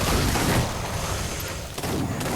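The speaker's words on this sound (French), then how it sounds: "donc là j'ai un flingue" Loud, dense gunfire from a handgun in an Oculus Go virtual reality shooting game, a sustained burst of rapid shots with a sharp crack near the end, heard alone without talk.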